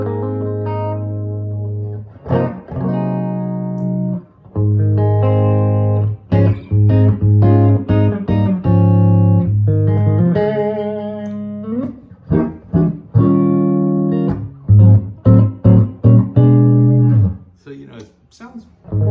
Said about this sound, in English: So let me actually play the amp clean.